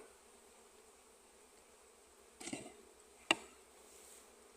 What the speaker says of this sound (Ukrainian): Непоганий рій, причому він прилетів не дуже давно